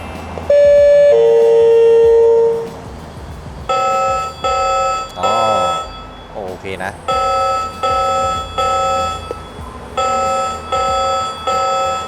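A small Japanese-style four-tone vehicle reversing buzzer chimes its electronic tones, first long steady beeps, then a rapid repeating pattern of short tonal bursts, loud and close.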